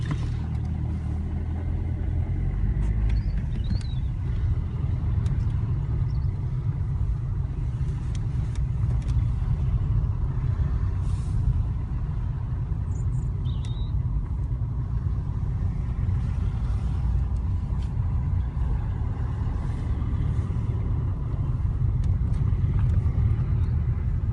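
Cars roll slowly through a university car park in Maynooth, Ireland. A continuous low engine and road rumble dominates, with faint scattered higher noises above it, steady and unbroken for the whole stretch.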